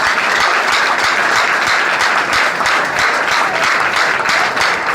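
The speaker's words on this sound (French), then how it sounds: "Applaudissez mon Dieu pour ça" A church congregation applauds during a sermon, a dense, steady burst of many clapping hands that stays loud and close for the whole stretch, with no voice standing out above it.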